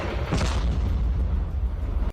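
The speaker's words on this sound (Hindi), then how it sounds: "तभी उन दोनों के बेहद नजदीक एक और जोरदार धमाका हुआ।" A loud explosion rings out in Russia–Ukraine war footage, with a heavy boom near the start followed by a sustained low rumble and debris-like roar lasting about two seconds.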